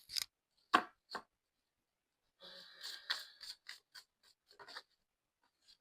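Playing cards being shuffled up close: a few sharp taps, then a quick fluttering riffle and scattered clicks, quiet otherwise.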